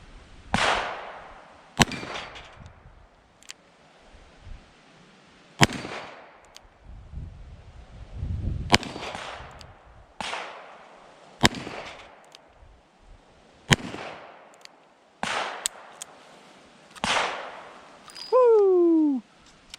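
Roughly ten sharp, loud gunshots from a Taurus Public Defender Poly revolver ring out one at a time, spaced a second or two apart, with a brief whistling tone near the end.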